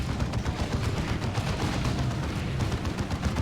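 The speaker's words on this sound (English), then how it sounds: "Looks like Cleric wants to shoot down this Force Commander." Dense, continuous gunfire from a Space Marines versus Tyranids battle in the real-time strategy game Warhammer 40,000: Dawn of War 2, with rapid overlapping shots and rumbling impacts sustained throughout at steady loudness.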